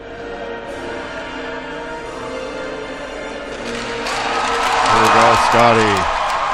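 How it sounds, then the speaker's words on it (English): A crowd at an ice hockey game swells into loud cheering and applause, rising over the second half beneath a commentator's ongoing talk. "That's one of the biggest cheers I've heard all year."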